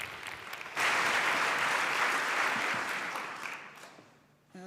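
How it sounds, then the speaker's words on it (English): Audience applause for a speaker at a PyCon UK lightning talk session, a burst of dense clapping from a hall crowd that swells quickly, holds, then fades out over a few seconds. "So a big round of applause for Becky, please."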